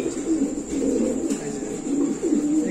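Lahori pigeons at a pigeon farm give soft, low repeated coos close by, rising and falling in several phrases over a faint steady background hum.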